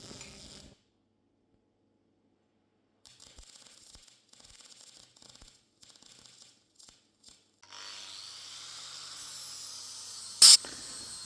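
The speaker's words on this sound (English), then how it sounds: "Just wanted to grind the welds off from the bottom, make sure there was no cracks" Welds are ground off the bottom of a steel ingot mould for casting copper. Quiet stretches and faint scattered scrapes come first, then a sustained gritty grinding roar in the last few seconds, ending with one sharp loud burst.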